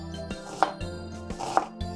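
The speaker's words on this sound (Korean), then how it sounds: "마늘 2쪽 다지기" A knife chops two cloves of garlic on a cutting board, with sharp, close, evenly spaced strikes about once per second.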